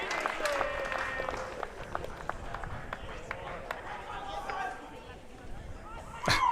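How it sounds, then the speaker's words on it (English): Crowd cheering and clapping around the championship court at an MLP Australia pro pickleball event in Brisbane, bursts of excited applause and chatter under a commentator's voice, with a sharp loud outburst near the end. "We just hear some pretty ecstatic cheering in the background"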